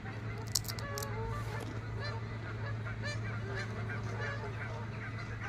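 A flock of Canada geese honks continuously nearby, many overlapping calls over a low background hum.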